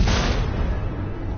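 Missiles launching and blasting apart in Batman: The Enemy Within, a single heavy booming burst that swells loud and then rolls off into a rumbling, hissy decay with no voices over it.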